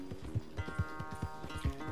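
Steady hoofbeats of a horse being ridden in Red Dead Redemption 2, a regular clip-clop rhythm of about four or five heavy thuds, close and fairly loud, with no talk over them.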